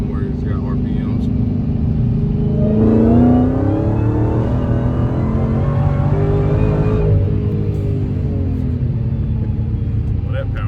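A supercharged Dodge Hellcat Redeye accelerates hard from inside the cabin, its engine note rising through a sustained rumbling surge over several seconds before easing back, with a person speaking over it.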